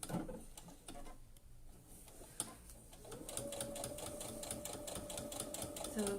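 A sewing machine runs a straight stitch through felt for heart decorations, starting after a quiet pause with a steady, close, continuous hum and rapid needle tapping that carries on to the end.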